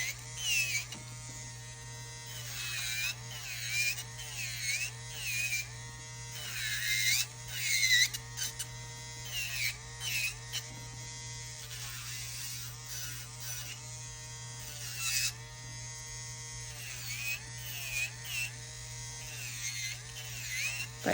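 Electric nail drill fitted with a carbide bit grinding away acrylic nail material, a steady high buzzing whine that rises and dips in short strokes as pressure changes, with a constant low hum beneath, close and continuous.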